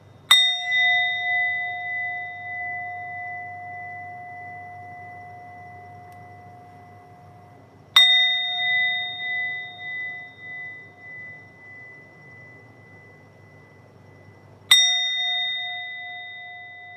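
A bowl is struck three times, each strike ringing out in a clear, bell-like tone that sounds like a school bell and slowly fades over several seconds, with no other sound.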